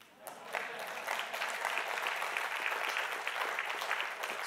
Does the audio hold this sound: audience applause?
yes